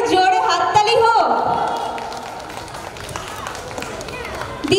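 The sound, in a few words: audience applause at a Durga Puja festival prize-giving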